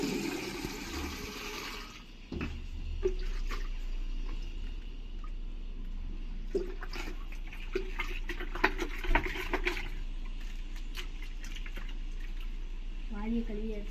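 A bucket is washed out with water on a balcony, a steady rush of running water with splashes and clunks over about fourteen seconds while a person talks throughout.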